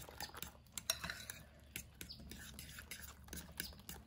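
Carbonara ingredients being stirred with grated Parmesan cheese: quiet scraping and light utensil clinks against a dish, with a few sharper taps, steady and close throughout.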